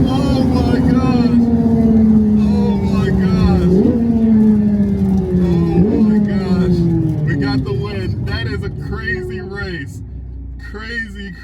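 A 670 HP Corvette C8 Z06 drag racing a 1025 HP Rivian truck, the Corvette's engine loud and close, climbing through gears with pitch rising and dropping at each shift, under excited talk.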